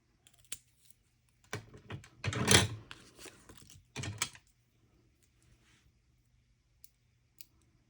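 Paper is cut in half with scissors, a few crisp close snips, the longest in the middle, followed by a couple of short clicks and quiet gaps.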